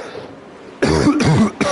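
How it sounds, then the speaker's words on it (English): A commentator at a racing broadcast gives a harsh throat-clearing cough, a few close, loud bursts after a brief quiet lead-in. "Again, I do apologize for the cough"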